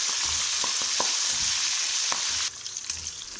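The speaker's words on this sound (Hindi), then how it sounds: "अब ये हमने शिमला मिर्च डाल दी, इसको भी हम फ्राई करके निकाल लेंगे।" Capsicum pieces frying in hot oil, a dense bright sizzle that drops slightly in level partway through, with a few sharp crackles and no talking.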